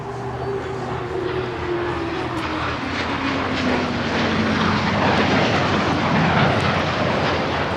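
A Hawker Hunter jet passes at an air display at the Goodwood Revival, a sustained roaring engine rush with a falling whine as it sweeps by, swelling slightly louder toward the end.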